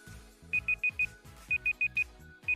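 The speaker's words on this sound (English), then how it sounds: "And timer is done." A timer alarm goes off, sounding bright electronic beeps in quick bursts of four that repeat, sharp and clear over a low background hum.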